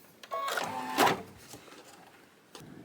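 A sewing machine stitches the tack-down line on a Halloween-themed quilt block, giving a short burst of mechanical whirring with a louder surge midway before settling into quieter handling noise.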